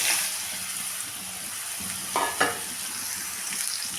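Bottle gourd goes into a pan of hot oil seasoned with fenugreek seeds and a dried red chilli after prawns were fried, giving a steady close sizzle with two brief louder bursts of crackle partway through.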